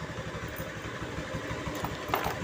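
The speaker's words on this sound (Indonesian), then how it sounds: "Nah, ini ya, motor udah hidup." A Honda Beat scooter (2017 model) with a fitted alarm idles steadily after a remote start, a close, even engine chatter with a brief louder blip near the end.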